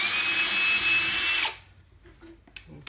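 A power drill drilling into the wood of a cot whines loudly for about a second and a half, then stops abruptly, followed by faint clicks and handling noises.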